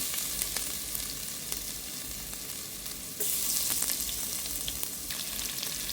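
Crushed ginger, garlic and fennel seeds sizzle in hot coconut oil for a Kerala-style mutton curry, with a dense crackling hiss and light stirring clicks that jump louder partway through.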